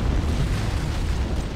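An antimatter charge explodes aboard a ship in a Halo: Combat Evolved cutscene, producing a loud, continuous deep rumbling roar that fills the whole moment with no speech.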